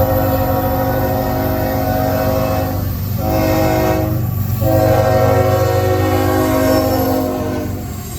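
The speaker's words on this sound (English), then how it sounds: "Next up was empty as-needed coal train E321, heading back to the mines in Evansville, Indiana" Empty coal train E321 passing fast through Kennesaw, a loud sustained rumble and rattle of wagons rolling by at speed with a steady horn-like tone throughout, close and continuous, with no voices.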